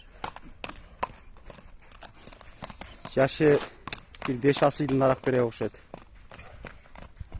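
A horse walks with a steady, evenly spaced clip-clop of hooves on hard ground, close and crisp, while someone talks over it for part of the time.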